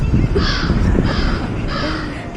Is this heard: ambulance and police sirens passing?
no